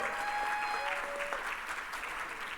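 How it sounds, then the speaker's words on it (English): Audience applause fills the room at a keynote speech for the CSUSB Defining the Future conference, a dense, steady clatter of many hands that holds loudly from start to finish, with faint tonal notes drifting over it. "Let's give another round of applause."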